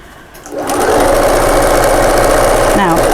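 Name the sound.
sewing machine top stitching a cushion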